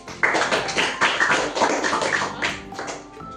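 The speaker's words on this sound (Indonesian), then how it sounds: "Tepuk tangan untuk kelompok 1" Classroom applause for group 1 after a group presentation on juvenile delinquency, a scattered round of clapping from a small group, uneven and close, tapering off toward the end.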